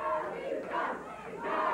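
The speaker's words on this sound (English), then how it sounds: "the crowd is expressing their feelings about Doug, and they are not what Doug would like to hear" A wrestling arena crowd at a USWA title match jeers Doug Gilbert, loud surging waves of massed booing and shouting that rise and fall.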